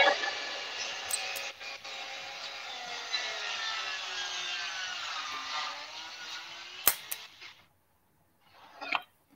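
A cordless Flex or Makita saw cuts through wood in a battery test, a loud steady whine lasting several seconds that shifts slightly in pitch before cutting out, followed by a brief clatter.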